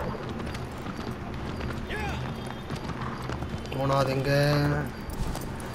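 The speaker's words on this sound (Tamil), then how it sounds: "காய் குதிரை ஓடு." A horse gallops in the video game Shadow of the Colossus Remastered on PS4, with rhythmic clip-clop hoofbeats under game music. Someone speaks briefly over the hooves.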